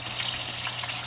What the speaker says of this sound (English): that's the noise of the sump